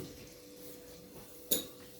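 A knife slicing a wet cake gives a single sharp clink of cutlery against a dish in a quiet kitchen.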